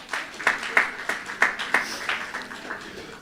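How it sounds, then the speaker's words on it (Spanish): A church congregation claps for a gentleman during a service, with uneven, rhythmic claps at moderate distance over a low murmur. "Um aplauso para o caballero nang"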